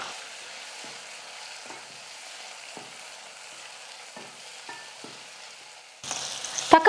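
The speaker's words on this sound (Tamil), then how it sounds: "இப்போ இதையும் சேர்த்து நல்லா வதக்கிக்கலாம்." Two medium tomatoes, sliced lengthwise, sauté with onions in a pan for bitter gourd kuzhambu, giving a steady, soft sizzle that turns louder and busier with stirring near the end.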